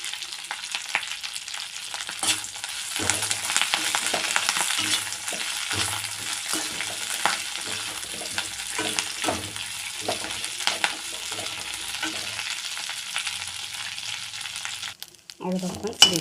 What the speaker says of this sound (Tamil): இப்போ இதில் நம்ம கருவேப்பிலை போட்டுருவோம். நல்லா வறுபட மாட்டோம்.